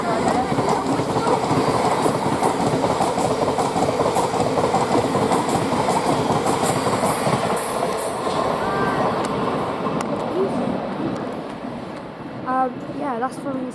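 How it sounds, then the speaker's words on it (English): Thameslink Class 700 electric multiple unit passing through West Hampstead Thameslink station, a loud, sustained rush of wheels and rail rumble with rhythmic clicking that fades near the end. "And now passing by the service to Brighton, Bedford from Brighton."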